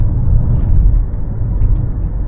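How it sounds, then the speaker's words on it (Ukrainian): Taxi car driving through Dnipro, a steady loud low engine and road rumble from inside the cabin with no voices. "тепер їду за пасажиром"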